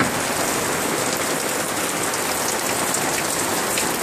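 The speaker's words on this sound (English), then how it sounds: "It's raining on me." Steady rain pours down outdoors near a mobile home in an area already flooded, a dense, loud, continuous hiss of drops hitting surfaces with no voices.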